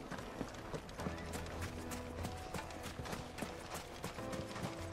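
A ridden chocobo runs across desert terrain in Final Fantasy XVI, its footfalls a quick, steady clip-clop gallop heard close up over a dense bed of game ambience.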